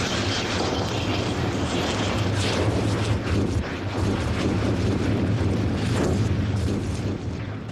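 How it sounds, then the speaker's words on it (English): Trapped volcanic gases bursting through flowing Hawaiian lava make a continuous loud, rumbling roar with deep booming pulses, dense and unbroken throughout. "Trapped gases explode to freedom."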